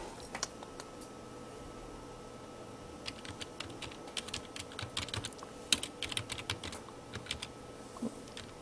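Someone types on a computer keyboard, a close, faint patter of uneven key clicks that picks up in busier bursts toward the middle, alone without talk.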